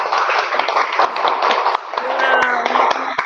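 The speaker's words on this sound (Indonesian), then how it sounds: "Kita beri aplaus, tepuk" Classroom applause, a burst of hand clapping from students with some voices mixed in, steady and fairly loud throughout.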